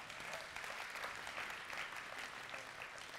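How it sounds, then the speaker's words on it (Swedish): An audience claps in a church, steady dense applause filling the whole stretch at an even level without pause. "Jag är glad att ni applåderar"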